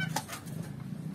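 A racing pigeon in a loft coos briefly, a short soft throaty call with a couple of quick pulses, close and alone.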